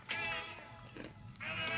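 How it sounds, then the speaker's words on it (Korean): A cat that has just woken up meows twice, each call drawn out and clear, with a short quiet gap between them. The meows sound close and there is no talk over them. "어느새 고양이까지 깨버린"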